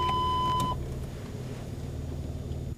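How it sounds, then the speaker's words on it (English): A Rover 75's rear parking aid gives a steady, unbroken electronic warning tone that cuts off after under a second, with a low engine hum continuing beneath. "Once the obstruction is only 35 centimetres away, the beeps become constant,"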